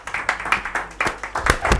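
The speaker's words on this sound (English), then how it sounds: "Clap hard, wakes you up." A lunchtime lecture audience claps at a Christmas science talk, a fast, steady run of close, sharp claps in a room, continuing for under two seconds.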